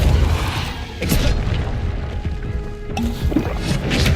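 A Repulso spell cast in Hogwarts Legacy lands as booming, crashing bursts, with a sharp blast near the start and another partway through over a steady rumbling game backdrop.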